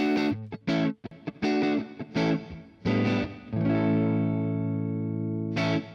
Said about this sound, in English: And then I could even put some reverb on it if I want.